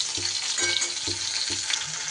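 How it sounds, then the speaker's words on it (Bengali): Katla fish pieces shallow-fry in hot oil with a steady, close sizzle and spatter, broken by soft rhythmic low thumps about every half second; no one speaks. "হালকা করে মাছগুলোকে ভেজে নিতে হবে"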